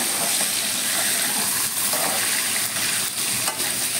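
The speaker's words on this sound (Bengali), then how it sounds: "মাছগুলো একটু কড়া করে ভাজবো।" Fish pieces frying in hot oil for a Bengali fish curry, giving a steady, loud broadband sizzle with crackling spatter throughout, close by and without any talk.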